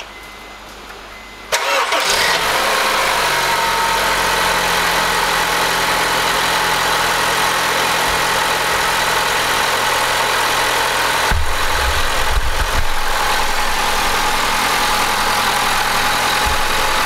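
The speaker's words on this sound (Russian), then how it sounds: "Теперь заведу двигатель, проверю, все нормально, нигде ничего не соскакивает." Honda Civic 1.8 engine after a drive belt replacement, cranking briefly and catching, then settling into a loud, steady close-up idle with a constant whirring drone, alone without talk.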